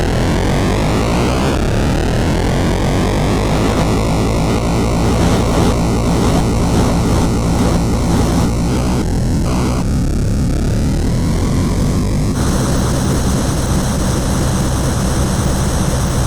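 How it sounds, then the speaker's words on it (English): An Atari 2600 racing game plays loud, continuous synthetic engine tones that step and slide in pitch, with harsh buzzing crash noises as the car bumps the sides. "what's happening here is the engine noise and the crashes and when I bump into the side"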